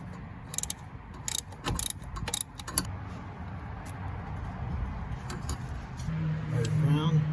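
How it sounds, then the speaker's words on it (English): Ratchet tightening a bolt on a Mitsubishi Montero Sport during spark plug work, a few quick clicking bursts early on, close, followed by a low hum and background noise. "Just going to tighten it with the ratchet."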